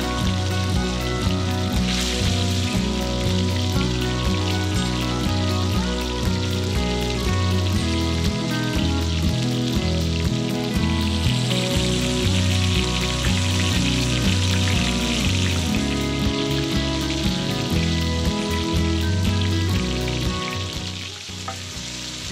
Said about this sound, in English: I've got some olive oil and butter on the skottle.